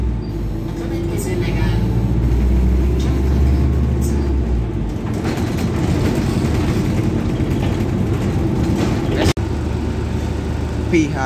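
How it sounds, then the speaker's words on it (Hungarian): A Volvo 7700 hybrid city bus hums and rumbles steadily from inside or close by, with a low engine drone and a change in tone partway through, while someone speaks over it. "Ez a busz."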